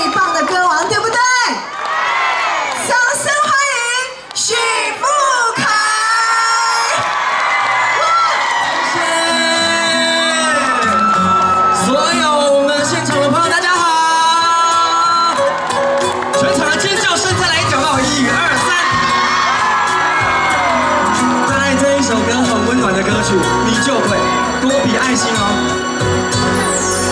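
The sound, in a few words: concert crowd screaming and cheering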